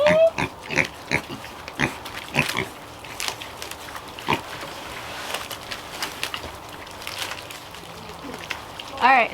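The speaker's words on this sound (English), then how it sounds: "I gave the pigs the little ones because it's easier for them to get their mouths around it" Pigs feed on small food pieces in a muddy pen, with irregular close-up snuffling, chomping and crunching bursts and occasional grunts scattered across the stretch.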